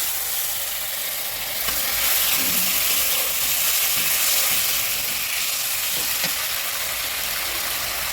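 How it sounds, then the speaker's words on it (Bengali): Spice-washed water poured into a home-cooking pan of frying spices with salt and turmeric, giving a steady, loud broadband sizzle and hiss that swells slightly as the liquid hits and keeps bubbling throughout. "এবার আর একটু জল দিয়ে মশলা ধোয়া জলটা দিয়ে দিলাম"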